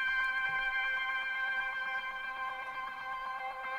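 A steady synth drone on C sounds thinned at the low end and coloured with a lo-fi texture effect, holding a continuous even tone with slight wavering grit, alone without voices.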